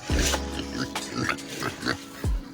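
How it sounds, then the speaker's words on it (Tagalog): Pigs grunting and oinking close by, several short snorts and a couple of deeper grunts scattered through the clip. "Sama nga pala kayo sa pagpakain ko ng mga baboy"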